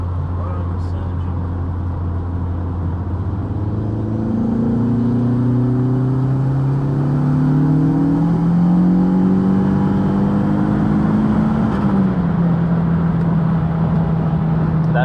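A rebuilt big-turbo 1.8T 20v Mk2 engine surges under load during road tuning, its note rising and wavering as it accelerates, loud and close from inside the car.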